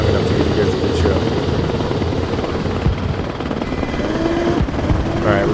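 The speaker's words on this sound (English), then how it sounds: "Alright, we're going in the KA-52 Alligator now." A KA-52 Alligator helicopter in Arma Reforger whirs loudly and steadily with rotor thrum throughout, while someone talks over it.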